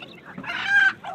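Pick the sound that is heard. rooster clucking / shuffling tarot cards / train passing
rooster clucking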